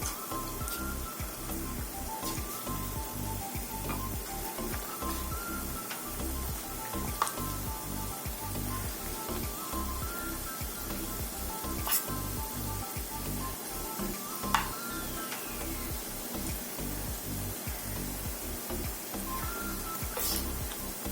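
Onion pakoras, or bhaji, sizzle steadily in hot oil as a new batch goes in, a dense continuous crackle with occasional sharper pops, close and fairly loud with no talking.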